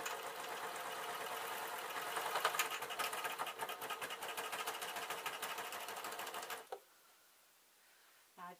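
A sewing machine stitches replacement covers for a Vax mop, running in a fast steady mechanical chatter for several seconds before stopping abruptly, followed by a faint pause and a small click.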